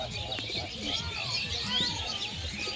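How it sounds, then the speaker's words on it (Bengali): Pigeons cooing and birds chirping in an outdoor setting, with some wing flapping and background noise. "পায়রাটা এসছে পায়রাটা উঠছে অনেক উপরে একাটাই উঠছে"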